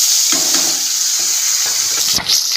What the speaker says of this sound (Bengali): এবারে মাথার লেজ ভেজে রেখে দেবো